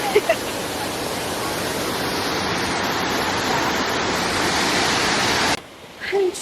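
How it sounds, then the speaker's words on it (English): A rushing waterfall roars as steady broadband noise for over five seconds at a scenic falls, then drops away sharply near the end when a brief voice is heard. "We're literally at the Hannah Montana Waterfall right now."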